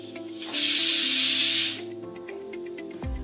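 A pressure cooker holding pumpkin and chana dal curry vents steam in one loud, sharp hiss lasting just over a second, then falls back to a quieter steady background with tonal music.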